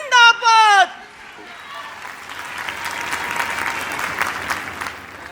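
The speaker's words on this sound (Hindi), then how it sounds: "एक बार जोरदार तालियां हो जाएं।" A crowd at an annual convention breaks into sustained applause that fills several seconds, following a brief sung or called-out voice at the start.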